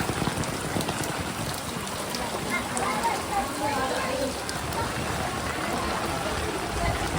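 Heavy rain pours down steadily over a riverside village during a flood, a dense continuous hiss that fills the scene, with people talking nearby under the downpour.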